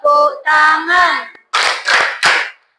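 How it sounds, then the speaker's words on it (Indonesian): Three crisp hand claps in quick succession follow a sung phrase from a children's song in an Indonesian Hindu religious education class, sharp and close after the voices stop. "Kalau Kau suka agama, tepuk tangan."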